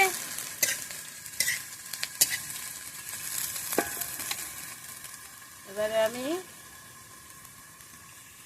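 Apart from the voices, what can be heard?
fish frying in a pan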